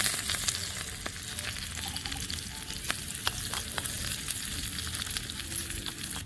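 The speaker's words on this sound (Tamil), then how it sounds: "இப்போ வெங்காயமும் புதினாவும் போட்டு வதக்கிக்கலாம்" Onions and mint sauté in a pan for crab gravy, making a continuous sizzle. Scrapes and clicks from stirring recur along the way.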